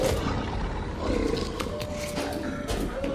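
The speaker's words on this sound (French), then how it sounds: "Ça devient un loup-garou comme ça." A werewolf in a video game roars with a rough, sustained growl that fills the few seconds, mixed with dense game noise and no speech.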